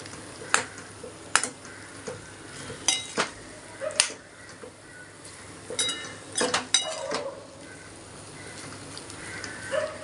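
Jeera aloo potatoes being stirred with chaat masala and garam masala in a pan, a spoon clinking and scraping against the metal in irregular sharp knocks, close and distinct with no talking.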